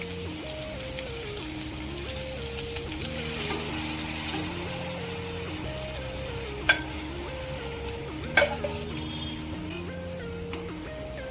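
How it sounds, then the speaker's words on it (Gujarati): Premix batter poured into a pan and stirred, with a steady soft sizzle and scraping throughout and two brief sharp clinks of the utensil; music plays underneath and no one speaks. "હવે આપણે જે ખીરું તૈયાર કર્યું છે ને પ્રીમેક્સનું એ આપણે નાખી દેવાનું છે આની અંદર."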